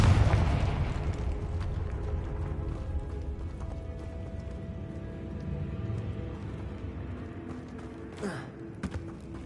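A Confringo fire spell bursts in Hogwarts Legacy, a loud deep boom at the start that rumbles and decays over several seconds, followed by fainter game effects and a brief swish near the end.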